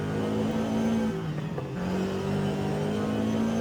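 A Toyota GR86 engine in Forza Horizon 5 hums steadily at sustained revs, loud and close, with a brief dip in pitch midway as the car shifts, then rises again.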